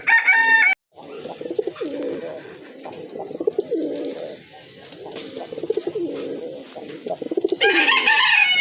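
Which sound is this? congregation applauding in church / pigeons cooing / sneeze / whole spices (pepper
pigeons cooing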